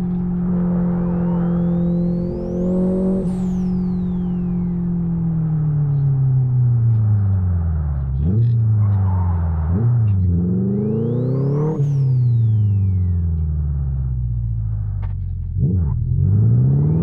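Astra 2.0 turbo engine in the Live for Speed racing game, loud and droning: revs climb through gears, then fall as it brakes, with turbo whistle and sharp rev blips on downshifts, then climbing again.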